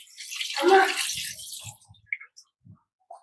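Cooked idli is rinsed under running water in a home kitchen to cool it, a short burst of splashing and pouring followed by a few scattered drips and small clinks.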